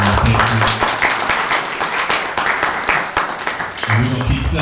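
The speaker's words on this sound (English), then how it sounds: "So one more round of applause for Lenora." An audience at a speaking event in Denver gives a loud, sustained round of applause, dense close clapping throughout, with voices and cheering mixed in at the start and again near the end.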